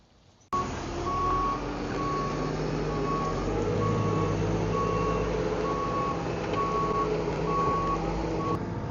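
A straw delivery truck on a farm reverses with a regular, repeating beeping alarm over a steady diesel engine rumble, starting abruptly and continuing near and loud.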